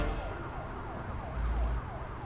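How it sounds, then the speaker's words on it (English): A police siren wails in American Truck Simulator, its rising and falling tone sweeping steadily over a low engine drone. "I am not going to miss Los Angeles and those flipping constant police sirens."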